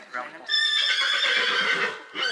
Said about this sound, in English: We've got horses galloping past us in the cross country